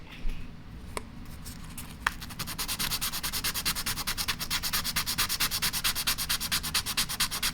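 Sandpaper of 1000 grit rubs over the metal of a Winchester Model 70 rifle in quick, even back-and-forth strokes, a close rhythmic scratching that settles into a steady pattern after a few scattered first passes.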